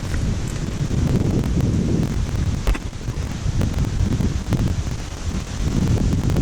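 Strong wind buffeting the microphone in low, rumbling gusts that swell and ease, with faint rustling and occasional clicks in the background.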